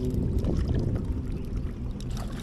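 A boat passes close by on the Chao Phraya river beside a dam, with a steady, loud churning rumble of engine and water that holds throughout.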